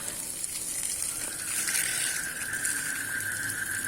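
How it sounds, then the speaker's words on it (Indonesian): Water gushes steadily from a pump hose onto a shallot field, a continuous bright hiss with a faint mechanical whine underneath, moderately close. "Proses siram ini saya lakukan menggunakan pompa air"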